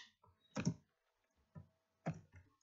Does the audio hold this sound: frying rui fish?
no